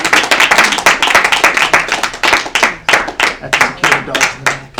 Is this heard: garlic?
no